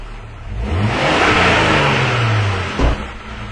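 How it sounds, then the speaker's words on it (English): A 2004 Jeep Cherokee engine with misfire and lean-condition faults revs up under added throttle, its tone climbing and holding loud for a few seconds before dropping back, with a brief knock near the end. "let's go ahead and add some throttle to this thing and see what we get"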